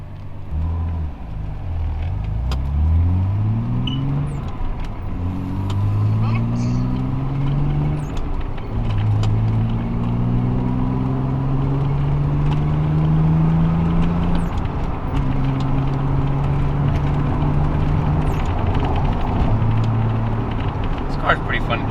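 A Nissan Z32 with power steering installed drives along, its engine rising through gears in repeated climbing sweeps with steady road noise throughout.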